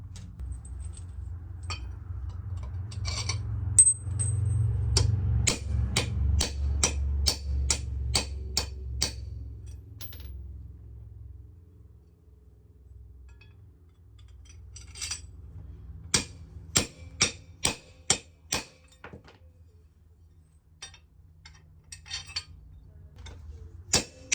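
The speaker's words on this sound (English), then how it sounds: "So let's get these pounded back in, get it back together." Wheel studs being hammered back into a Nissan X-Trail hub at home: two runs of rapid, evenly spaced metallic hammer blows, close and sharp, over a low background rumble.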